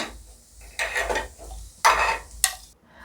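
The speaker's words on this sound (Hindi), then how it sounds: "तो अब ये पक गया है, तो क्या करूँगी, मैं इसमें ट्रांसफ़र कर लूँगी प्लेट में।" A cooked potato and breadcrumb snack is stirred and scraped from a pan onto a plate. A few bursts of scraping and clinking come up close against a faint sizzle, with one sharp knock near the end.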